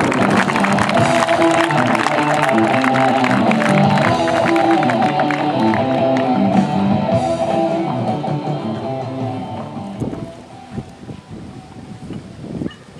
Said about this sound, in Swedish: En stor applåd för Rickard Råd!